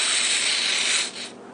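A spray gun hisses a fine coating onto a chocolate mould in one steady, close burst of about a second, then a shorter, softer puff follows.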